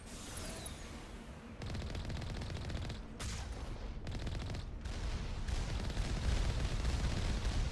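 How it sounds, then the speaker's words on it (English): Enemy gunfire in the Mass Effect video game forms a dense, continuous crackle of rapid shots and bursts, with a few sharper cracks standing out as the volley grows slightly louder toward the end. "The AI is definitely shooting us."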